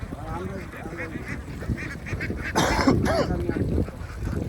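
Ducks on a Bangladeshi duck farm quack and honk in a noisy flock under a man's conversation, with a louder burst of calls midway through the clip.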